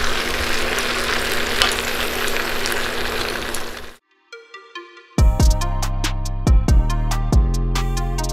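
A potato and peas curry sizzles loudly in a pan while being stirred, a steady frying hiss for about four seconds, then silence, then sharp repeated clatters of the spoon against the pan.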